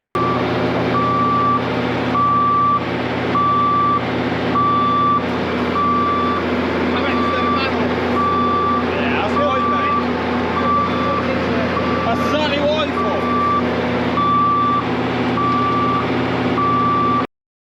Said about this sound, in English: The beeping sound on the truck is indicating that we are running out of water.